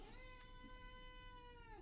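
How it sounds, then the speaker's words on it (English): A house cat meows indoors, one long, drawn-out, strongly pitched cry lasting nearly two seconds, fairly clear against a quiet room with no talking. "That's the cat. Do you hear that?"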